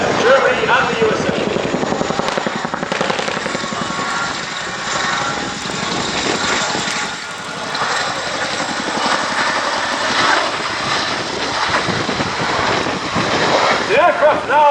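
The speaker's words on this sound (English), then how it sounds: "Listen as the aircraft closes in and the distinctive rotor noise gets" A helicopter performs a display at the Cosford airshow in 2017, its loud rotor beat and engine roar building as it closes in and holding steady, with a commentator's voice faintly underneath.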